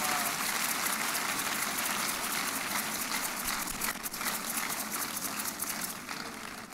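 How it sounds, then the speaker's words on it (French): A church congregation at a healing miracle service claps and cheers loudly, a dense, continuous wash of applause that fades slightly toward the end. "Acclamez très fort le Seigneur."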